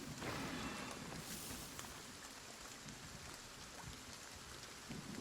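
Steady rain pours down during a stormy night in the medieval strategy game Wartales, a dense hiss of raindrops on the ground with faint low rumbles of thunder beneath, continuous and fairly soft throughout.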